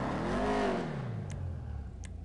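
A video game car engine with a maxed-out exhaust revs up and falls back in one smooth swell, a moderately loud sweeping drone with a couple of faint clicks afterward.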